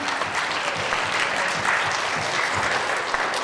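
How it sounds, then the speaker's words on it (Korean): Steady applause from a church congregation, dense and continuous throughout, with no pauses. "영광의 박수 올리겠습니다"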